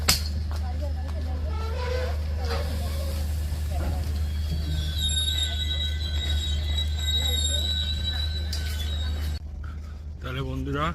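The Radhikapur Express standing and moving at Barsoi Junction, a steady low rumble of the train with squealing wheels and a high metallic tone, heard alongside station voices and talking nearby.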